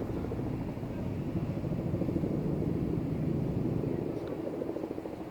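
A helicopter flying during a wildfire suppression training exercise in Andong, its rotor chop a steady, dense low thrum that holds at moderate distance for the whole stretch with little change.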